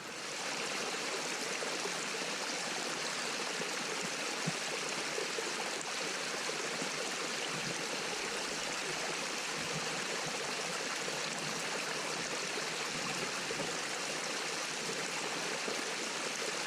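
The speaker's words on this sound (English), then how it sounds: "Glorious spring mountain water." Mountain spring water streams and trickles steadily along a backpacking trail loop in the Catskill Mountains, a soft, continuous close-up flow with no voices.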